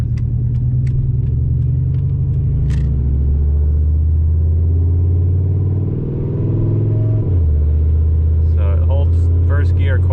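A big single-turbo Ford F150 on a new transmission tune is driven on the street, its engine droning loudly and steadily from inside the cab, with a brief dip as it shifts gears and then the pull resumes.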